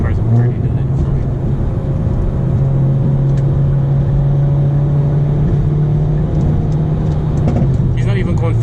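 Hyundai Veloster N engine droning steadily at a constant pitch while driving at night, a low sustained hum with road noise and no clear rev rises, heard from inside the cabin.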